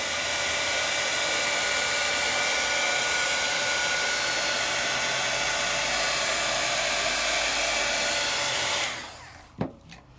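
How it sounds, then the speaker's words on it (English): A heat tool warming ink gives off a continuous, close whooshing blow that runs steadily for about nine seconds before switching off, followed by a couple of faint clicks. "Every time I move my heat tool, it instantly starts to cool."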